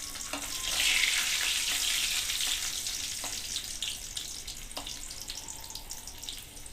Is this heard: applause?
no